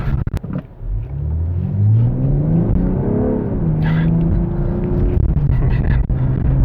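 A 2022 BMW M340i xDrive all-wheel-drive sedan pulling hard off the line, its engine note climbing through rising revs with a gear change midway, loud and close throughout, no talking.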